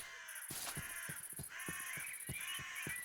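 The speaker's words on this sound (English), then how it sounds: "Did the crow just say cunt? I kinda like the crows." A crow in a video game caws repeatedly, with about eight harsh, evenly spaced calls over a faint steady background hum.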